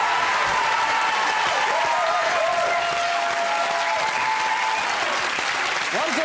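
A TV game show studio audience claps steadily and enthusiastically, a dense sustained applause with faint voices and a tonal sound drifting underneath.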